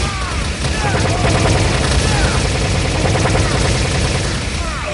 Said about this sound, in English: This is a new weapon called a scavenger rifle